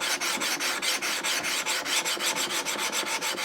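A draw knife is rubbed back and forth on a 400 grit sharpening stone in a jig, giving a steady, close rasping scrape with quick regular strokes and no voices.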